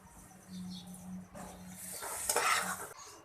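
A spoon scrapes and clinks against a pan while freshly cooked suji halwa is served out. The contact is close and brief, with a soft stirring, scraping texture and a faint sizzle. No one speaks.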